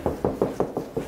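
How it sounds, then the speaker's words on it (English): A series of six sharp, evenly spaced knocks on a wall, quick and fairly close, with no talking over them. "Stop knocking."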